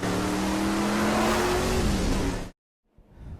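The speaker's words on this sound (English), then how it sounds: "we're ready to go racing for the Super Trucks" Super Truck race trucks roar around Myrtle Beach Speedway in a loud, sustained engine rush with rising revving tones, cutting off abruptly to near silence before a fainter engine returns.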